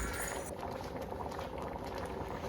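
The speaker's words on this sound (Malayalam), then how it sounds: "ഇത് നല്ലോണം തിളച്ചിട്ടുണ്ട്" A pot of pumpkin erissery curry bubbles and gurgles at a steady boil, close by, with soft popping bursts continuing throughout.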